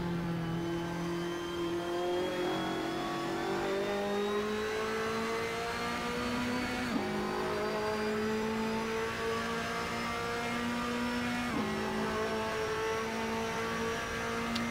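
A 2015 Ferrari 458 on extremely hard tyres slides through a turn while its engine holds a high, sustained drone, climbing in pitch through two upshifts, loud and close.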